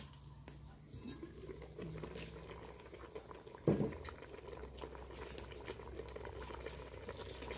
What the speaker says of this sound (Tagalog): At hayaan natin kumulo dyan hanggang sa maluto